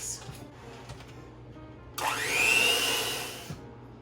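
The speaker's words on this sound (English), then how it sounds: "So we're done with our mixer for a while." An electric hand mixer whirs to life in a home kitchen beating tres leches cake batter, its motor pitch rising as it runs steadily for about a second and a half before cutting off, moderately loud and close.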